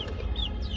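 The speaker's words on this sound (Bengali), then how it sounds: "এই যে দেখতে পাচ্ছেন মুরগিগুলো খুব আরামসে দেদারসে খাচ্ছে, মারামারি করতেছে, খুব আনন্দ করতেছে।" Native chickens cluck softly while feeding, a brief low murmur of fowl sounds close by with no talking.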